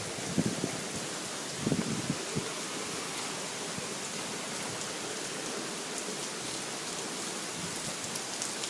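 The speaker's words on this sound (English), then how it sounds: "Good old hailstorm." Hail falls during an April hailstorm in Michigan, some stones about an inch across, making a dense, steady patter on the ground that stays fairly faint and even, with a few slightly louder hits near the start.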